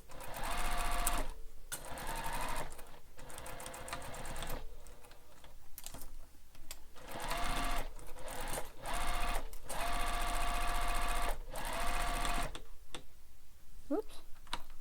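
A sewing machine runs in bursts, stitching a bowler bag seam with a back stitch at the start and stop. The rapid mechanical whirring is broken by short pauses between runs, close and loud, with no speech.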